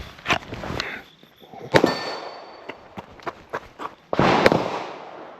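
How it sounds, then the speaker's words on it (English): Pistol shots ring out on an outdoor range, their reports mixed with the metallic clang of rounds striking a steel plate about 20 yards away before more shots land on a paper USPSA target. Several sharp, loud cracks come at irregular spacing, and no one speaks. "We're gonna do 2 shots, 1 shot on steel at, this is about 20 yards right here"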